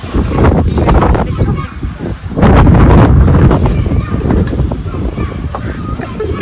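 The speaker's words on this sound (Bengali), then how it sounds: "কি জোর হাওয়া দিচ্ছে এখনো ভাই।" Strong gusty wind buffets the microphone outdoors in a steady low roar that swells louder midway, with people talking faintly underneath.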